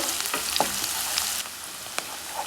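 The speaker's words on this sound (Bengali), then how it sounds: "তো আমার পেঁয়াজগুলো একটু ভেজে নেওয়া হয়ে গেছে।" Chopped onions sizzle in a pan with a steady crackling hiss, while a few light scrapes and taps of stirring come through close by.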